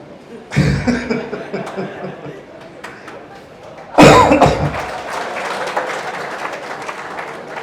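Newly arrived students clap together in a classroom on their first day, two bursts of applause, the second louder and longer, with chuckles, coughs and murmured chatter in between.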